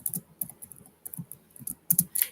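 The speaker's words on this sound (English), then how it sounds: "I'm going to type it." Steady bursts of close keystrokes on a computer keyboard, irregular clicks and taps running throughout with no voices.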